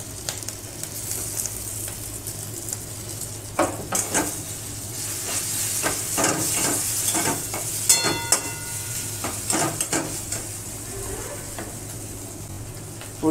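Pointed gourd shells frying with potato in a pan, a continuous close sizzle broken by repeated stirring scrapes and clatters.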